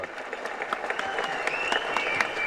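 Audience clapping at the Maan Karate audio launch, a steady wash of hand claps swelling slightly louder over a few seconds, with faint crowd murmur underneath.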